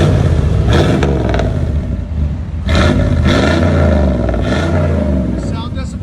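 A truck engine with a high flow catalytic converter rumbles and revs up in two or three surges, loud and close, with a deep roar and mechanical clatter, while people talk over it.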